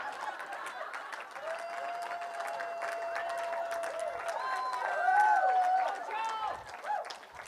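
Audience clapping and laughter at a stand-up comedy set during a writers' workshop, rising to a louder burst near the end, with a voice talking over it.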